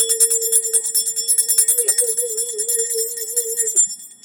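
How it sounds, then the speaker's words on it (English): A meditation bell is struck and rings out with a bright sustained metallic tone and shimmering overtones, wavering slightly as it decays before being cut off after about four seconds. "I'm just going to ring this bell a little bit"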